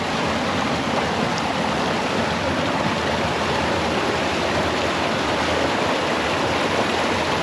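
A small stream runs over rocks beside a wild waterfall in northern Portugal, giving a constant, close, broadband rush of flowing water with no voices.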